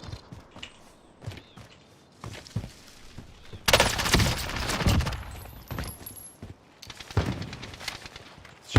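Gunfire from burst weapons in Call of Duty Warzone: rapid volleys and scattered shots, with one long loud barrage in the middle, mixed with footsteps and other game noise.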